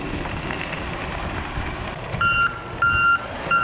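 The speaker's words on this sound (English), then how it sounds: "There's the grader." A road grader working a gravel road sounds repeated high reversing beeps over a rumbling engine and crunching gravel nearby, the beeps coming in short bursts.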